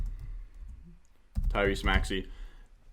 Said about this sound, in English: and then you can just type in a Tyrese Maxi.